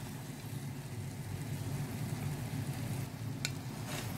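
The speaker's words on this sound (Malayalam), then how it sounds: "ഇത് നല്ലതായിട്ട് ഒന്ന് മിക്സ് ചെയ്തു കൊടുക്കാം" Fried prawns being stirred into a prawn roast in a hot pan give a steady, close sizzle with soft scraping of the stirring, continuous and fairly quiet throughout.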